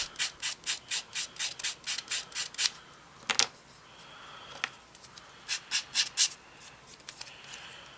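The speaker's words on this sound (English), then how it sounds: "Right, let's sand that smooth." Sanding a sharp-edged plastic part from an Airfix 1/48 Boulton Paul Defiant Mk.I model kit, with quick rhythmic rasping strokes in bursts, close and clear, and a short pause midway.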